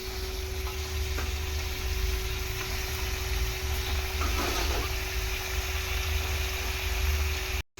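Mutton sautéing in a pan, a steady close sizzle with a constant hiss and occasional stirring scrapes underneath, running evenly throughout.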